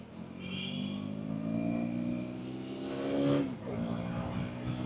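A 2025 KTM Duke 200 motorcycle accelerates hard close by, its engine note climbing steadily in pitch, briefly dipping around a gear change, then pulling upward again. No talking is heard.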